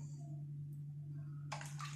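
Onion water poured into a small bowl for a grilled chicken marinade: a short, bright splashing gush arrives near the end over a steady low electrical hum, with no talking.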